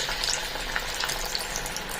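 Hot oil sizzles steadily in a pan, ready for frying gourd-peel pakoras, a dense continuous crackle close by with no voices over it.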